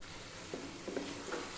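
Pumpkin halwa fries in a pan with coriander, green chillies and a homemade tarka, a faint, even sizzle with a few soft stirring touches over a brief moment.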